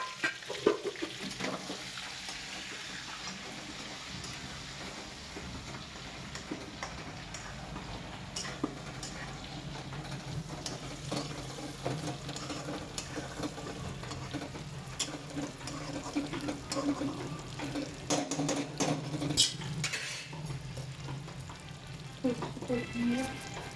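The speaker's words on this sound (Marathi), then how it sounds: "ही भरलेली वांगी टाकायची." Stuffed eggplant with masala frying in a pan for a home meal with bajra bhakri, a steady close sizzle with occasional stirring clicks and scrapes throughout.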